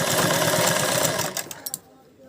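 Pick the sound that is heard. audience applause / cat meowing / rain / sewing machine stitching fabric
sewing machine stitching fabric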